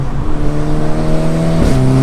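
A Volkswagen Golf R with a DSG gearbox drives hard, its engine and exhaust droning loudly from inside the car as the revs climb steadily, then a quick gearshift drops the pitch before it climbs again.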